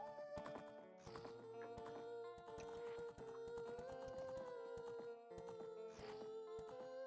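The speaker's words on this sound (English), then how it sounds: "She's this horse. Her name is Epona." Epona the horse from the N64 game The Legend of Zelda: Ocarina of Time, clip-clopping hooves and a whinny set against a steady, loud tune of game music with no talking.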